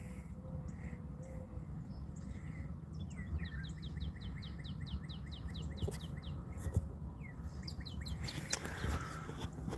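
Several birds chirping and squabbling outdoors, rapid repeated chirp trills and calls, some overlapping in agitated bursts, over a low steady background rumble; fairly faint and moderately near.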